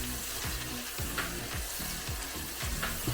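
Ginger paste being stirred into vegetables frying in a pan, a steady close sizzle broken by repeated scraping stirs, with no talking.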